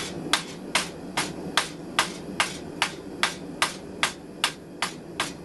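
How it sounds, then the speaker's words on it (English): A ball peen hammer strikes metal in an even, steady rhythm, peening a homemade nail on a forge, about a dozen sharp ringing taps close by with no talking. "I'm using a ball peen hammer, and I just start peening it over."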